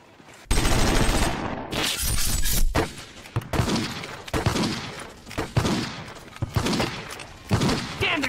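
Loud sustained gunfire and bursts of automatic weapons fill a staged battle scene in a comedy sketch, with rapid shots, impacts and crashes rolling continuously and close up.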